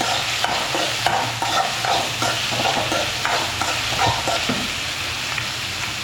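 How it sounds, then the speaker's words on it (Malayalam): Sliced onions with a pinch of salt sautéing in a pan while being stirred, a steady close sizzle with repeated scraping strokes of the spoon, no talking. "എന്നിട്ട് ഇളക്കി കൊടുക്കാം."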